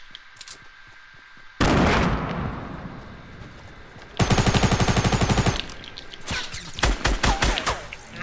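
Gunfire in a Fortnite Battle Royale match: a heavy blast, then a rapid rattling burst of automatic fire followed by scattered further shots, loud and close.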